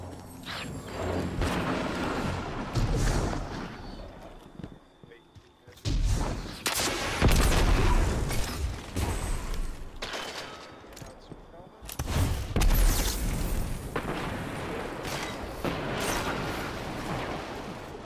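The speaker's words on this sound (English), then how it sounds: "My teammate is shooting at me." Rapid bursts of gunfire and booming weapon blasts in a Destiny Iron Banner match on Twilight Gap, loud and dense, coming in waves with brief lulls, under a player talking throughout.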